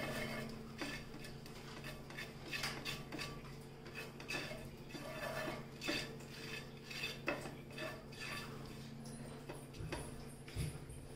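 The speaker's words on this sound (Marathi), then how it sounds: "तर आपण याला लो स्पीड मीडियम स्पीडवर ठेवून भाजूया" Khajur barfi mixture roasting in a pan over medium heat, heard as repeated metallic scraping and clinking of a spatula against the pan in an uneven, busy rhythm, close and fairly soft.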